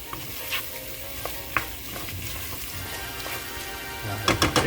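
A spoon stirs gumbo in a hot pot, scraping and sloshing through the simmering sizzle, with scattered clinks and a quick burst of knocks against the pot at the end.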